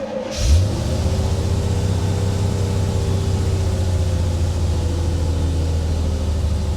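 A 1985 Chevy Corvette V8 engine fires up close by and then settles into a steady, deep, even idle that runs on without a break.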